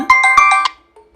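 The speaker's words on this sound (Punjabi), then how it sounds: "ਫੋਨ ਕਿਹਦਾ ਆ ਗਿਆ" A phone ringtone plays close and loud as a quick run of four or five bright, evenly spaced tonal beeps. It stops abruptly, leaving a faint, brief tail, with no talking.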